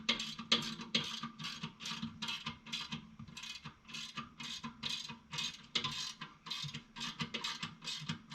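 Hand ratchet tightening 19 mm bolts on a chromoly rear track bar bracket, a quiet string of quick rhythmic clicking bursts with short gaps between pulls.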